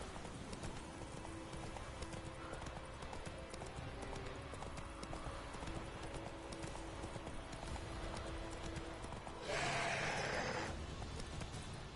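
Roach, a horse in The Witcher 3, trots steadily with crisp, regular clip-clopping hooves over ambient game sound, until a brief burst of louder noise near the end.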